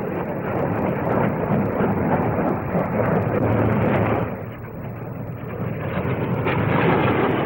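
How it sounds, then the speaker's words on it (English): A Blackburn NA-39 naval low-level strike jet roars past at an air display, a loud, steady broadband engine rush that dips briefly midway and then swells again. "The Blackburn NA-39."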